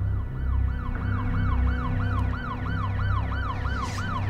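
A wailing police siren sweeps up and down in a steady, repeating cycle, loud and continuous over a low engine rumble, with no voices.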